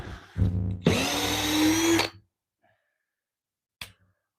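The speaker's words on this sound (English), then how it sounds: "that drill just acts up on me" An older Harbor Freight cordless drill with a dying battery runs in two short bursts, the second a steady whine of over a second that stops abruptly, followed by a brief click after a pause.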